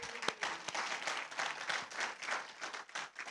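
A church congregation claps during a worship service on a baptism day, a dense, steady patter of many hands filling the room for the whole stretch.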